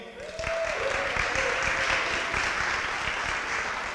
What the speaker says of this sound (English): Give yourselves a hand.